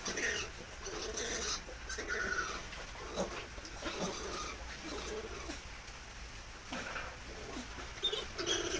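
Healthy young piglets on a farm squeal and grunt in a continuous, busy chorus at moderate distance, with overlapping bursts of higher cries over a steady pen background.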